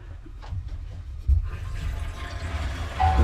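Hot water cylinder refilling in a house after the lever valve is opened, a steady rushing hiss of water running into the tank with a low gurgling rumble, close and continuous.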